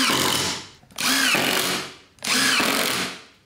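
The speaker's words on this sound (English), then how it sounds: "Now I can countersink and drive some screws at each joint." Power drill driving screws into a wooden mortising jig: three loud, close bursts of whirring motor, each rising and cutting off with short pauses between, no talk.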